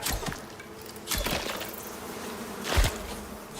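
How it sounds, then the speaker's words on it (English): Bees buzzing in the open-world survival video game Icarus: a dense, steady insect drone, fairly loud and close, broken by a few sharp impact hits. "Where the heck are you, bees?"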